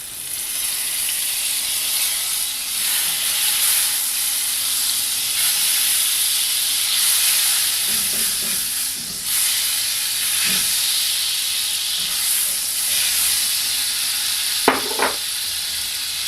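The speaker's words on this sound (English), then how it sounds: "To the shallow cast iron, we're going to add 2 tablespoons of that butter" Two tablespoons of butter sizzling in a hot, shallow cast iron pan, a steady bright hiss that runs throughout, with a few soft clinks and scrapes of a utensil.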